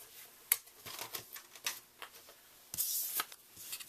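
Paper crunching through a die-cutting machine in a papercraft session: a series of sharp clicks and rasping passes, a few louder bursts, close and alone.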